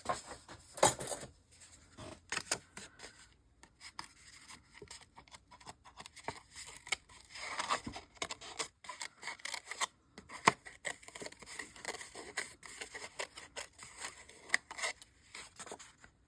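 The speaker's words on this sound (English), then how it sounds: "Might have to just do it with scissors." Intermittent snipping and paper rustling, close by, with irregular cuts and handling noises spread through the stretch and no talking.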